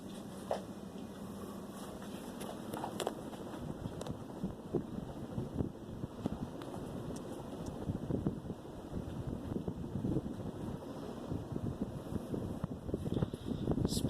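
A 48-inch Emerson North Wind ceiling fan running on its high setting gives a steady, close whooshing air rush with a continuous low hum and faint rattles, holding evenly throughout.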